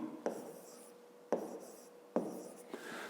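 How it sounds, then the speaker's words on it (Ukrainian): A pen scratches across paper close by, writing out a word for a fifth-grade math exercise, with a few sharp taps where the pen lands and short strokes between, and no one speaking. "Пишемо."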